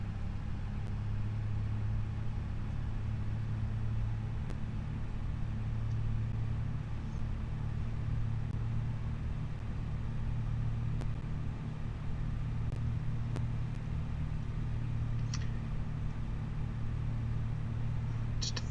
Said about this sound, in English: Fun little truck that we got here, this old F100 pickup with a flare side bed and a wood floor on the bed.